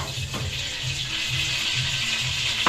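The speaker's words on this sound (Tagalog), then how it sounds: "Lalagyan ko lang tubig dito." Water poured into a cooking pot while preparing hab-hab with chorizo and sayote, a steady splashing rush with a few rhythmic low gurgles, close and continuous throughout.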